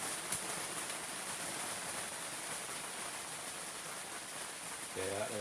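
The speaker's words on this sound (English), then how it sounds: "The rain decided to come, and it's definitely coming down right now." Steady rain falling outside during an ice fishing outing for northern brook trout, a constant even hiss with no breaks, and a voice briefly speaking near the end.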